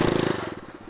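A small 50cc motorcycle engine held at the rev limiter, buzzing loud and close with a rapid, even stutter as the ignition cuts in and out.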